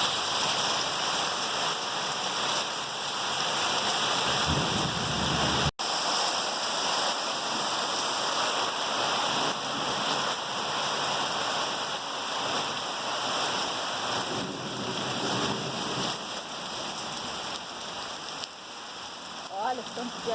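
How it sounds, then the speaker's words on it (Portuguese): Heavy rain pours steadily on a farm in the countryside, a dense continuous hiss of drops on surfaces lasting throughout, loud and close; no clear thunder stands out. "Começando a alagar ali atrás da casa, bastante água, chovendo bastante."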